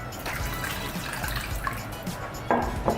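Thick sauce pours and splatters over a seafood boil of Dungeness crab and king crab, a steady wet sloshing with a few louder splashes near the end.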